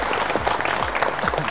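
A studio audience at a Bible quiz show bursts into brief, dense clapping, steady and close.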